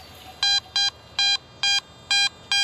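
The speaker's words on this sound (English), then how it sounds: "You can hear that very high tone audio." A Garrett AT Max metal detector gives a high-pitched target tone, repeating in six short, evenly spaced electronic beeps that stand out loud and clear over faint background hiss.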